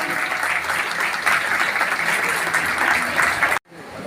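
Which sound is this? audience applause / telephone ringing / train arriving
audience applause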